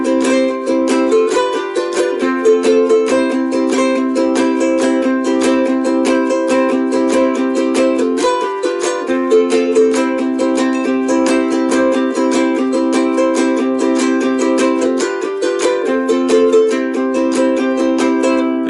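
A ukulele strums the introduction of a song in a brisk split-stroke style, with fast, rhythmic chord strokes repeating steadily in a looping pattern, loud and close with no voices.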